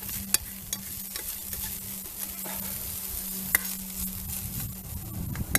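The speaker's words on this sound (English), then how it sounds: "right now we are cooking supper" Lunch cooks over a Dakota fire pit, heard as a soft continuous sizzle and crackle with a low steady hum, broken by occasional sharp ticks and clinks, close by with no talking.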